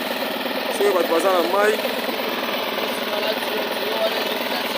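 A generator engine drones steadily throughout while a person speaks briefly over it.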